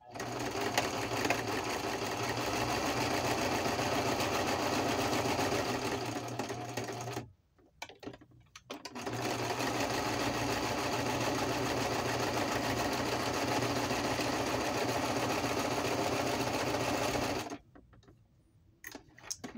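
A sewing machine stitching through packing paper, a close and steady mechanical whir in two long runs broken by short silent pauses.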